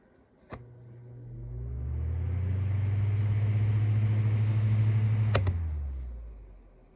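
After a click, an Air King 6-inch fan 9146G whirs up on high into a steady low hum that builds and holds, then fades as another click switches it off.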